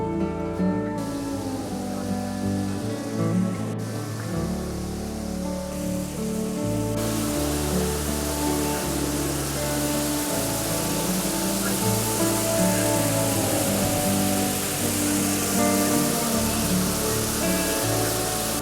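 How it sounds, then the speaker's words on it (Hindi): A large single-drop waterfall in the Coorg forest of Karnataka roars as a steady rushing wash of water noise that thickens and grows louder partway through, continuous with no voices. "फॉल्स तक पहुंचने के लिए थोड़ा सा वॉक करना पड़ता है जंगलों के बीच में से। जैसे जैसे आगे बढ़ते हैं वो साउंड तेज़ होता जाता है"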